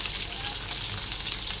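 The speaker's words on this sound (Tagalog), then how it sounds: "At tayo maggisa na." Garlic, ginger and chili hit hot oil in a pan, giving a steady close sizzle and crackle that fills the whole moment with no pauses.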